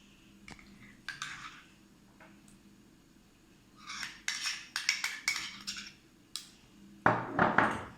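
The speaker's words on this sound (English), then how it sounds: "Stir it nicely till it's creamy." A spoon stirs cream cheese in a bowl, with soft scrapes and quick clinking taps in short clustered bursts and a louder flurry at the end, close and fairly quiet with no speech.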